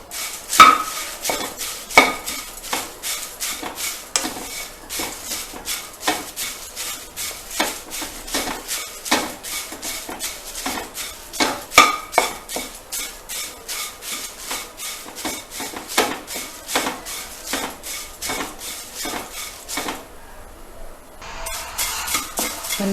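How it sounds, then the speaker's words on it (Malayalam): Flattened rice (aval) dry-roasts in an oil-free pan, stirred with a utensil that scrapes and clinks in a steady rapid rhythm of crisp, close scratches. "അതിലേക്ക് നമുക്ക് ഈ അവലൊന്നിട്ട് വറുത്തെടുക്കാം"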